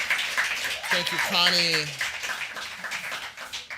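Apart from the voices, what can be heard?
audience applause at a poetry festival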